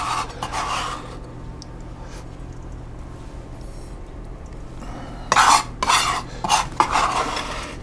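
Ingredients get mixed in a bowl, with bursts of scraping and clinking from a spoon against the sides, quieter at first then a run of stronger, rhythmic strokes, close and without speech.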